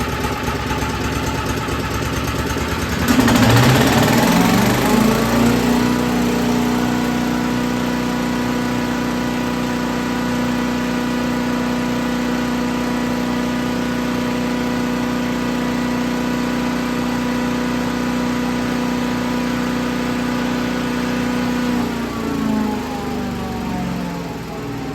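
A BILT HARD 3 in 1 wood chipper engine is pull-started and catches with a loud burst, then settles into a steady close idle for about twenty seconds before winding down near the end.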